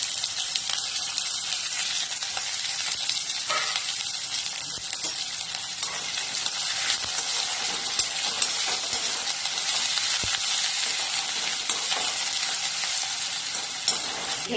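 Peanuts, potato, onion and green chillies fry loudly in a pan for kande poha, a dense, continuous bright sizzle and crackle that runs unbroken throughout, close and steady with faint stirring underneath.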